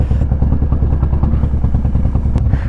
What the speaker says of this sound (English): they do not have a lumpy idle like this thing